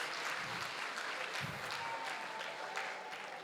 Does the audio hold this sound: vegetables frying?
no